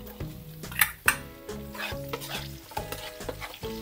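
Garlic and onion sauté in a hot pan, giving a steady sizzle punctuated by sharp scrapes and clinks of a utensil stirring against the pan, close and fairly quiet.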